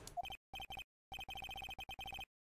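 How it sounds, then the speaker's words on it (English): A synthetic telephone ring from the game Phoenix Wright: Justice for All chirps in quick bursts, a short trill, a pause, then a longer run of rapid repeated rings, clear and close with no talking. "All of a sudden, the phone began to ring."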